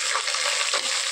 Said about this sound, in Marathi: मटणाचे पीसेस टाकून घेते मी.